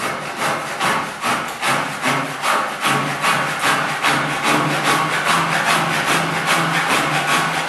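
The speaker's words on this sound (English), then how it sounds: "we can use a handsaw to trim the bottom of the frame off." A handsaw cuts through the bottom of a wooden partition door frame during oak floor fitting, steady rhythmic rasping strokes close up and loud, repeating evenly for several seconds with no talking.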